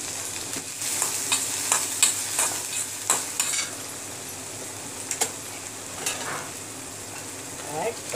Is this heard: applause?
no